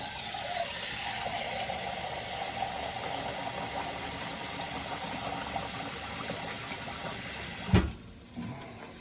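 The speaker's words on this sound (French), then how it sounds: "Un litre d'eau. Que je verse là-dessus." One litre of water pours into a pan of braised pork meatballs, a steady splashing wash that runs for several seconds before a clunk and quieter tail; no talking.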